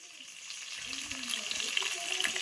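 Chopped onion fries in a pan with a soft, continuous sizzle that swells slightly, close and unbroken, with no voices.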